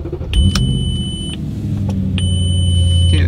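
An Audi B7 RS4 is switched back on: electronic dashboard chimes sound twice while a low engine rumble starts and settles into a steady idle, close and fairly loud with no voices.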